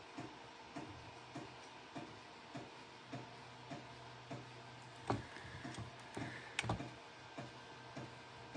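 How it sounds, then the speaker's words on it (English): A home printer running across the room, faint and distant, with a regular ticking mechanical rhythm about once per second and a couple of louder clunks near the end. "I can just hear my printer over there"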